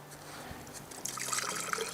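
Water trickles and splashes into a Grayl Geopress water filter at a winter camp in Washington, faint at first, then a brighter, louder stream of filling liquid, with no voices.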